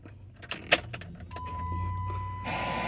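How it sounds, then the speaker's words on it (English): Keys jangle in the ignition of a Ram 1500 pickup with a couple of sharp metallic clicks, then a warning chime tone sounds and the cabin fills with a steady hum as the truck powers on; no engine crank is clearly heard. "So we're going to turn on the ignition"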